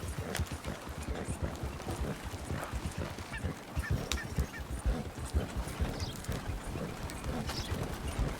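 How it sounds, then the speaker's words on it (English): A horse pulls a damaged carriage at a steady trot in Red Dead Redemption 2, rhythmic clip-clopping hooves with rattling wheels, moderately loud, with occasional game sounds in the background. "I can only go so fast because the horse that I have is built for endurance and reliability and not speed."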